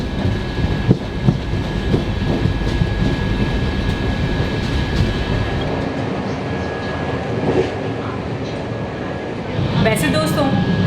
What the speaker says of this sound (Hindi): बाकी खिड़की से हमारी ट्रेन निकल चुकी है